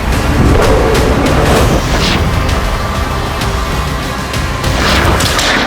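A loud, rumbling explosion in Russian-occupied Donetsk during the Russia-Ukraine war, with dense low-end energy sustained throughout and sharper bursts and crackling debris near the start and end.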